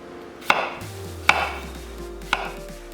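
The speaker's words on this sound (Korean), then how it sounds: "감자 큰 거 2개는 반을 갈라서" Three sharp knife chops through large potatoes on a cutting board, evenly spaced and close, with a low steady hum underneath.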